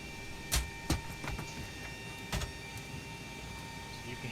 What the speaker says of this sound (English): So you can hear the galleyway doors being opened and closed